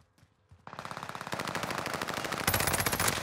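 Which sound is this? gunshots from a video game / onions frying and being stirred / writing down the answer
gunshots from a video game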